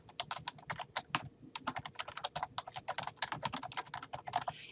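Rapid, steady typing on a computer keyboard, close and clear, with dense clicks running throughout and no voices.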